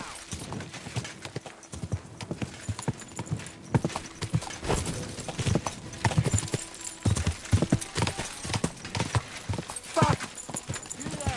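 A horse gallops in Kingdom Come Deliverance on PS5 Pro, its hooves beating out a continuous, irregular clip-clop at moderate loudness, with faint voices in the background.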